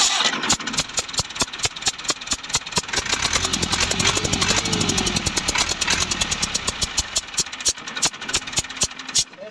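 A 385 tractor's diesel engine, with a stuck nozzle, runs close by in a rapid, steady knocking beat that stays loud throughout, with a rough mid-range rumble swelling slightly in the middle.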